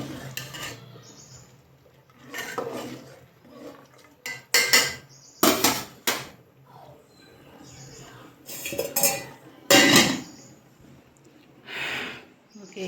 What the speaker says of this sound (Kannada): ಈಗ ನಾನು ಮುಚ್ಚ ಹಾಕಿ ತಿರುಗ್ತಾ ಇದ್ದೀನಿ.